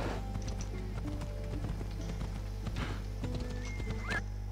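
Horse hooves clip-clop in a steady galloping rhythm in the video game Assassin's Creed Odyssey, with a brief whinny and soft game ambience behind.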